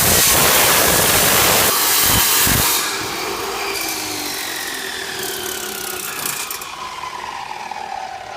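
A power saw cuts through a piece clamped in its holding mechanism, a loud close whine with a couple of thumps. It then winds down to a fading, descending spin.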